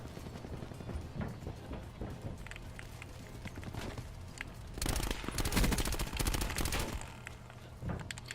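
Rapid automatic gunfire from the Swordfish gun in a video game: a dense, loud burst of fast repeated shots in the middle, with lighter scattered shots and game noise before and after.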